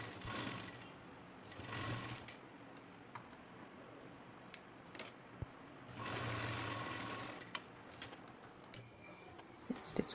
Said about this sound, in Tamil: அந்த லேஸ் வச்சு ஸ்டிச் பண்ணிடுங்க